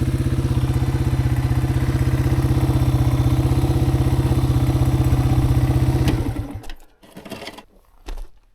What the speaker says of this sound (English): Yeah, with one person on the bike, I'd go right through here, but with Linda on the back, I don't want to